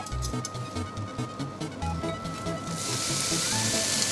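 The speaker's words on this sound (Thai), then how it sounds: "ใส่ใส่เส้นลงไปผัดเลยตอนเนี้ย" Spaghetti stir-fried in a pan with bacon for carbonara sizzles steadily and fairly softly, with light scraping and tossing, and the hiss grows brighter and fuller toward the end.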